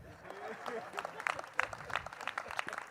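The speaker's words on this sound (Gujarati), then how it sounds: "તાળી વગાડો બધા." Audience applause at a live comedy show in Kericho, Kenya: a crowd claps in scattered, uneven bursts that build to several sharper claps, with voices murmuring underneath.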